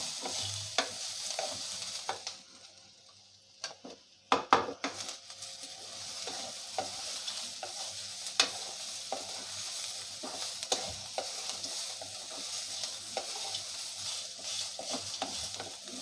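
Onions sizzle in a pan in a home kitchen while a spoon scrapes and stirs them in irregular knocks and clinks. There is a brief quiet gap, then steady frying resumes.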